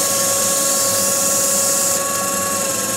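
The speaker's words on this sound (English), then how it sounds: "Take some 600 grit sandpaper, just sand it a little bit." Fine 600-grit sandpaper lightly sanding a starched Irish linen wrap, a steady continuous hiss that holds at an even level throughout with no talk.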